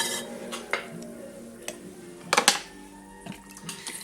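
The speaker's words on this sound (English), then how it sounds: "Take your wood knife tool and scrape all that clay off of there" A wood knife tool scrapes clay off a pottery wheel head with several short, dry scraping strokes and sharper clicks, one strong burst midway, fairly close over a faint background hum.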